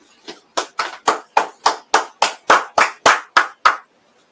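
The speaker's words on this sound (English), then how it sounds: "Clap it up" About a dozen sharp, evenly spaced claps from a single pair of hands at a scripture class, loud and close, then silence with no talking.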